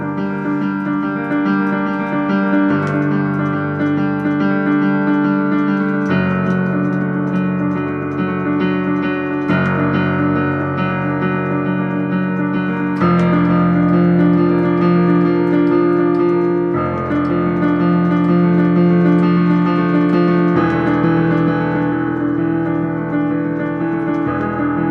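A somber stage score theme for Jane Eyre played with a quickened rhythm: sustained, tonal chords shift every few seconds in a steady, urgent pulse, full and continuous with no voices.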